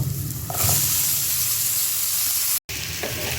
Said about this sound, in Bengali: এই যে মরিচ, পেঁয়াজ, রসুনটা একটু ভেজে নিয়েছি। এখন শিম আর আলুগুলো দিয়ে দিব।